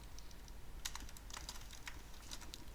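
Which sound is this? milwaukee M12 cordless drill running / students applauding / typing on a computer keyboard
typing on a computer keyboard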